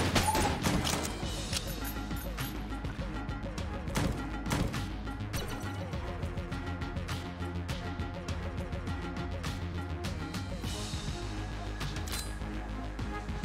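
Gunfire in the Enter the Gungeon video game, repeated sharp shots popping over steady game music, a dense flurry early and scattered bursts after, with a voice occasionally heard.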